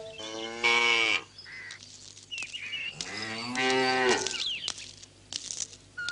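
A cow moos twice in a Malayalam film scene, each call long and loud with a drawn-out bellow, separated by a few seconds of quieter background.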